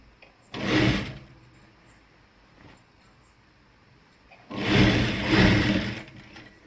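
A sewing machine stitches a salwar in two bursts, the first short and the second longer, near and fairly loud with a quiet pause between.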